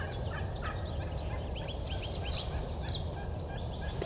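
Rio Grande wild turkeys gobble in the distance, rolling calls rising over a steady low rumble of wind or traffic, with faint birdsong around them.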